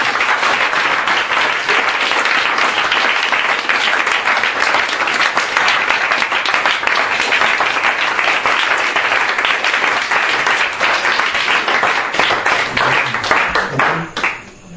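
A church congregation applauds to acclaim Jesus Christ, a loud, steady roar of many hands clapping that holds for well over ten seconds before trailing off at the end.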